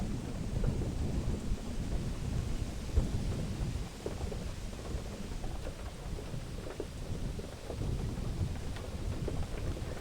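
Heavy, steady rain pours down at a lakeside campsite in the Lake District, a dense, continuous hiss with low rumbling underneath, unbroken for the whole stretch.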